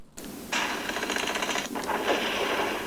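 Rapid, rattling blasts of cartoonish explosion effects from an animated cartoon burst out in two close bursts, crackling and loud, separated by a brief gap.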